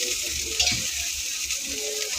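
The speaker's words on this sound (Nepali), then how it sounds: "चाउमिनलाई चाहिँ फ्राई गर्नुपर्छ।" Chow mein fries in a pan with a dense, bright sizzle, close by, and a soft scrape of stirring partway through.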